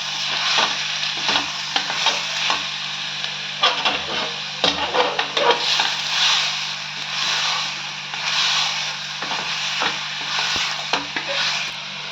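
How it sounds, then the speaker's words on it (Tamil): Chicken and tomatoes sauté in a pan for chicken kurma, a strong close sizzle with bursts of clattering spatula strokes against the pan, busiest early and pulsing in waves afterward. "இப்போ சிக்கனை போட்டு கொஞ்சம் வதக்குங்க."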